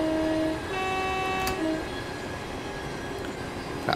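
A Thameslink Class 700 electric train brakes on the Brighton Main Line in Train Sim World 4, giving a steady rolling rumble with brief tonal whines and squeals from the motors and wheels, fading into a smooth low drone.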